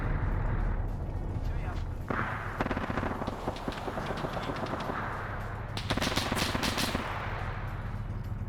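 Machine gun fire in a military video game, sustained rattling bursts of shots mixed with explosions and heavy rumbling, loud and continuous, with a voice talking under the gunfire.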